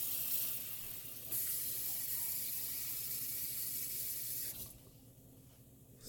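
Tap water running steadily into a deep cooking pot for brown gravy, a continuous close hiss that briefly pauses, then resumes and drops to a quieter trickle near the end.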